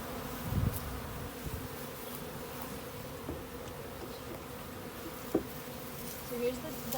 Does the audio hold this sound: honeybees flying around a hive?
yes